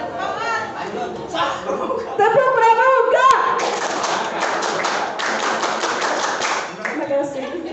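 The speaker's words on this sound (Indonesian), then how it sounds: "Tepuk pramuka." Scout clap performed by an audience at a scouting branch meeting, rhythmic bursts of group clapping and taps mixed with voices and some chuckling, fairly close and loud.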